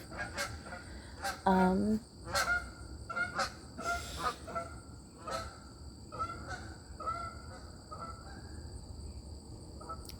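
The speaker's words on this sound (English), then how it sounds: "Two Canadian geese just flew right over me." Several Canada geese honk repeatedly overhead, moderately near at first then fading, over a steady high chirring of insects.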